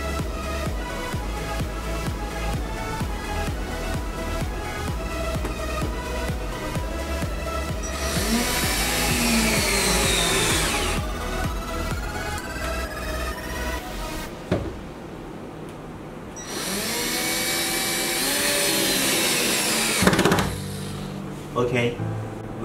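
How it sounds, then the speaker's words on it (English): A power drill drives screws to mount a solar inverter onto a wall, two whining bursts of a few seconds each under a steady backing track, with a clunk between them. "Next, screwing the inverter on the wall."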